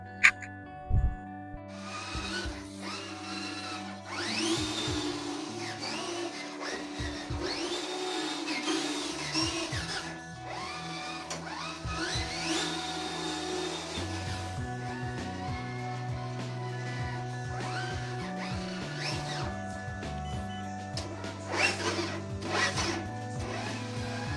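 FMS FCX10 Pro RC crawler with a Hobbywing Fusion Pro 2300KV motor driving on a floor, whining electric motor pitch rising and falling in repeated bursts with gear noise and brief pauses, close by.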